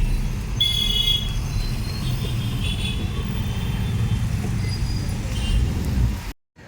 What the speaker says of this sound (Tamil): டிராஃபிக் பாருங்கள், சரியான டிராஃபிக்.